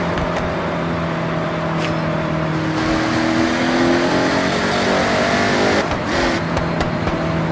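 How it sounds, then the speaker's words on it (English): A Saleen S7's V8 engine in the racing game Forza Horizon 6 revs and accelerates steadily, with rising and falling engine tones and a sustained roar throughout. "you can enjoy the sound of this car's V8 engine,"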